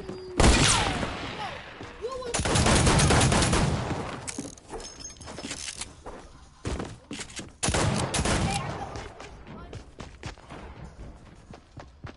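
Shotgun fire in a video game shootout: loud, sharp blasts burst out at intervals amid other gunfire and scuffling, with a short pause between volleys.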